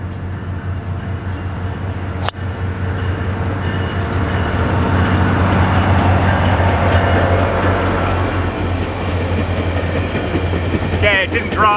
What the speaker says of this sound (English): We got the train coming through.